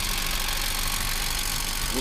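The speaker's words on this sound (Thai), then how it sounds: "เครื่องเงียบ ๆเครื่องยนต์ดีไม่มีไอ โคตรเงียบเลย" A steady, low engine hum idles quietly and evenly throughout, with no revving or change in pitch.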